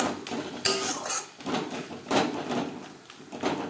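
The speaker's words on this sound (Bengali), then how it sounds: "এবার একটু খুন্তির সাহায্যে টমেটো ম্যাশ করে দেবো" A spatula mashes tomato in a pan for a fish curry, irregular metallic scrapes and clanks against the pan at close range, a handful of distinct strokes with pauses between them.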